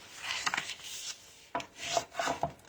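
Score marks on card stock being burnished, short close rubbing strokes in a few quick bursts with brief gaps, fairly soft and alone.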